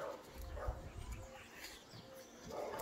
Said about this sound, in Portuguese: canela, American Bully que veio para adestramento, e às vezes os cães não são tão sociáveis